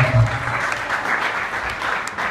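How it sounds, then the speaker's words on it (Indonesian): Brief burst of audience applause at a stand-up open mic, a dense steady patter of many hands clapping close by, with a low voice heard faintly at the start. "Oke, tepuk tangan dulu untuk keresahan"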